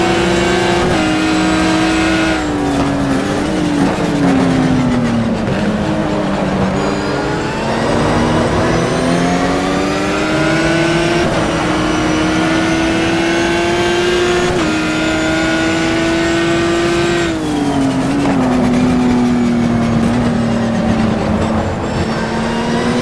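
Race car engines in Simbin GTR2 roaring continuously at high revs, pitch rising and dropping with gear changes and braking as cars battle past slower Porsches, loud and close throughout.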